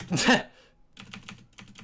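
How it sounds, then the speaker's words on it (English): Computer keyboard typing in a short burst of close, rapid keystrokes, then a few scattered, softer key taps after a brief pause, heard alone without talk. "Been slowly typing out the word blue into his Google Doc."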